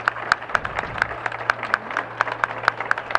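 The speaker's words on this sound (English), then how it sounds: "And to a nice round of applause from the fancy here at ringside." Light ringside applause from spectators at a horse show futurity, individual claps spaced fairly evenly and clearly audible over a low steady hum.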